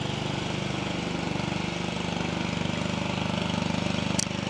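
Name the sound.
neighbor's lawnmower running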